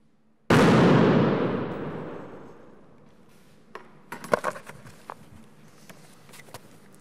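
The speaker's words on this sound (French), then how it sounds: "cette fois-ci, l'explosion va être beaucoup plus importante" A single loud blast from a chemical explosion in a science show erupts suddenly and fades over a few seconds, followed by scattered crackles and pops.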